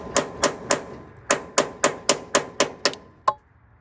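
Sharp, close hammer blows set the last rivet on a metal mount: three quick strikes, a brief pause, then a steady run of six more and one final hit, loud and ringing.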